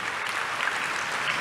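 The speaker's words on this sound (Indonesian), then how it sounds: "Tepuk tangan yang paling meriah buat Tuhan" Church congregation clapping for God during a sermon, a steady wash of applause heard at a distance, fairly quiet and even from start to finish.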